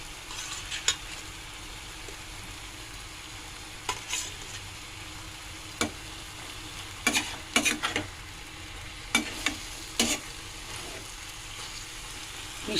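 Hilsa fish heads cook in a pan for a water lily stem chorchori, a low, steady sizzle dotted with occasional sharp pops and clicks.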